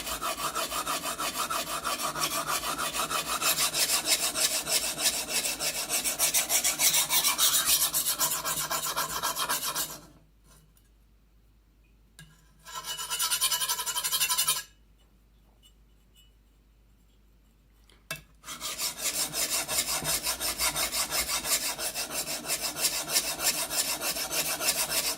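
A knife blade is worked over a sharpening stone in steady, close rasping strokes that run continuously, drop out for two brief pauses, then resume just as loud.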